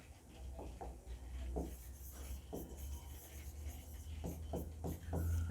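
A pen or marker scratches across a board in short repeated strokes, close and moderately quiet, with soft rubbing textures against a faint background hum and no voices.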